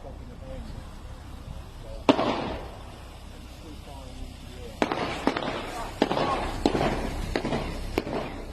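Gunshots fired from an apartment balcony: one sharp bang, a pause, then a rapid, irregular string of cracks. They sound somewhat distant over steady background noise, with voices faintly present.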